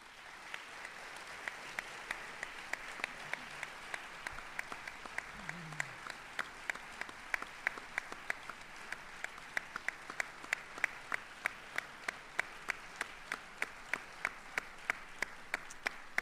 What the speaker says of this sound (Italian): Questo è il battimani non libero.